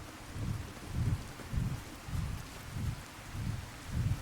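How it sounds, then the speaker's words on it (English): Soft rain falls in a modded Fallout 4 game, a faint steady hiss with low, regular rumbling pulses repeating about every half second underneath. "the rain right now is actually helping us because it's reducing enemy visibility quite substantially"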